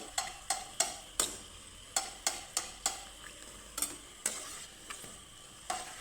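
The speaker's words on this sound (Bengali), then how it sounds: "তো হালকা লাল লাল করে আমি ভেজে নেব সুন্দর করে" Pitha frying in hot oil, with a quiet bubbling sizzle under a run of sharp, close metallic taps and scrapes from a utensil against the pan at an uneven, roughly half-second pace.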